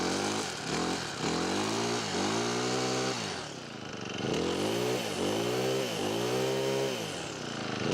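An Akita petrol string trimmer with a Honda GX35 engine runs close by, its buzzing drone rising and falling as the throttle is revved repeatedly, with a brief drop to idle midway and no talking.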